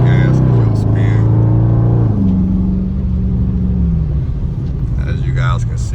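A 2020 Dodge Charger Scat Pack Widebody is driven on wet roads with traction control off. Its engine gives a deep, loud cabin drone that climbs and drops in pitch as the car accelerates and eases off.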